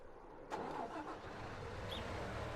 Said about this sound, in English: Very nice sounding tractor.